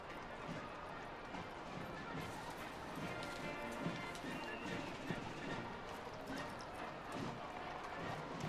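Horses' hooves clop faintly and steadily at a military parade with music corps veterans, a distant rhythmic patter under crowd noise and an ongoing commentator's voice.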